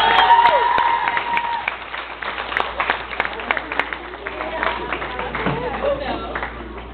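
Applause and cheering from a school senior breakfast audience after a teacher's speech, dense clapping loudest at the start and continuing under scattered voices.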